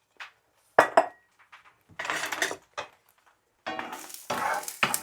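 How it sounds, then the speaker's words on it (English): An egg lightly scrambled in a pan for fried rice: sharp clinks of a utensil against the pan, then bursts of soft sizzling and scraping in short, separated strokes, close up and with no talk. "lightly scramble my egg"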